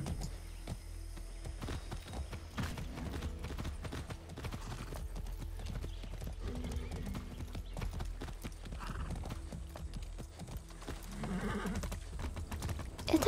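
Horse hooves clip-clopping during riding in the Far Cry 6 video game, a busy, continuous patter of hoofbeats with an occasional whinny, moderately faint over a low game-world background.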